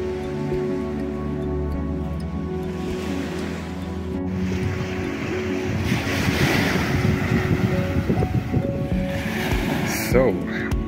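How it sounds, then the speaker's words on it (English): Surf washing onto the beach at Flic en Flac and Le Morne, Mauritius, a continuous broadband roar mixed with heavy wind buffeting on the microphone and faint voices in the background. "So we just arrived at the world famous Flic and Le Morne beach."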